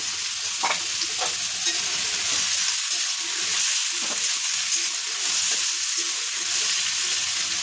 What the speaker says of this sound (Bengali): পেঁয়াজ রসুন কাঁচা লঙ্কা একটু ভাজা ভাজা করে নেব